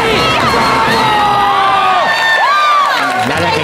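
A studio audience on a Taiwanese variety talk show bursts into loud, sustained cheering and shouting with scattered whoops after a card magic trick, a dense crowd roar that stays steady throughout.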